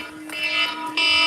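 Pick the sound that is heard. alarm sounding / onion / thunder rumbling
alarm sounding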